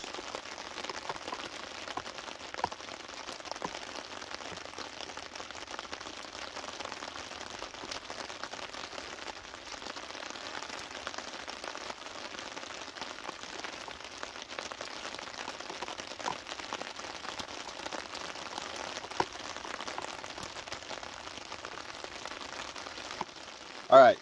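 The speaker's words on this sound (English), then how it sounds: "Rain on top of the tarp." Rain drumming on a camping tarp overhead, a dense, even patter of soft hissing drops running steadily throughout, fairly quiet, with a brief louder knock at the very end.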